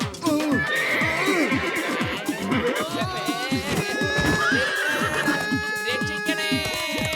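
A cartoon horse neighs and whinnies repeatedly over quick galloping hoofbeats in a lively animated scene, the shrill whinnies rising and falling over busy background music.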